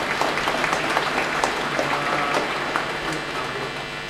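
A church congregation applauds for a priest at a Sunday Easter service, a steady wash of clapping from many hands that continues evenly throughout and fades slightly toward the end.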